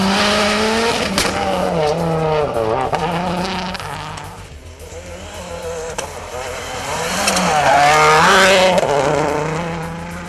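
Suzuki SX-4-based race car with a J20 engine, built by MML Sports in Rugby, England, in Barbados: the engine drones loud and steady, its pitch climbing and falling as the revs swing up and down over several seconds with no talk.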